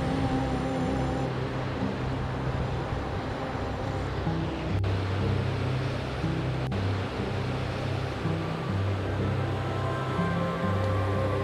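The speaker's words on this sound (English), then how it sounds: "white foams forming when the tides hit that small island" Sea waves wash against a small island off Kangaroo Island, heard as a steady, broad roar of surf with a low engine-like drone underneath and no voices.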